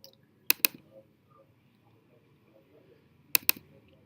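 A computer mouse double-clicks twice, two sharp paired clicks a few seconds apart over a quiet room.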